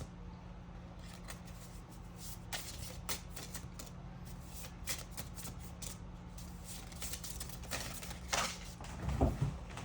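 Tarot cards being shuffled and drawn, a quiet run of soft papery flicks and slides at close range, faint and irregular, with a louder rustle near the end.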